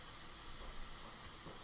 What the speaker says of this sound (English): that right temperature of the saute pan, you have a nice sizzle